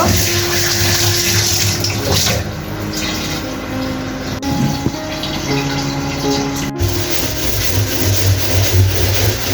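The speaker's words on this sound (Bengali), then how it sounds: "এই তো আমার থালা বাটি মাজা শেষ, এখন দিয়ে নেব।" Tap water running steadily at a kitchen sink while washed plates and bowls are rinsed, a loud continuous rush with small clinks and shifts in flow throughout.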